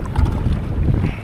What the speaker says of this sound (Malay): Angin padu sangat ni.